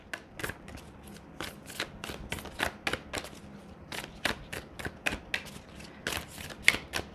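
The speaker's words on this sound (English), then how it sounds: "we're going to pull some Moonology cards" Moonology oracle cards being shuffled by hand, a quick run of crisp riffling slaps and flutters repeating in an uneven rhythm, close and fairly quiet with no talking.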